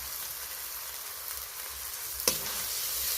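Ginger paste goes into a hot pan while cooking tengra fish, a steady, close sizzle with one sharp crackle as it lands, the frying continuing evenly afterward.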